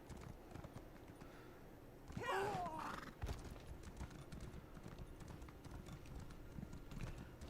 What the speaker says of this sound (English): My horse is slow, 'cause it only has the lowest of riding speeds.